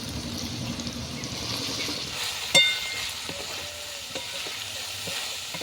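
Cauliflower florets frying in a pan of oil after carrots, a steady close sizzle with a sharp clank of a utensil against the pan midway and lighter stirring taps after.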